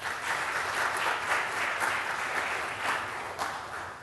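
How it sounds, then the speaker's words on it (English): Audience applause fills the room at a presentation, a steady, dense wash of many hands clapping throughout, fairly close and even in level with no talk over it. "Please join me in quickly giving a round of applause to all these people"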